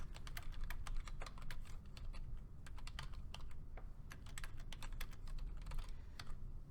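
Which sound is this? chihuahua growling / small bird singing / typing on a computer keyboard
typing on a computer keyboard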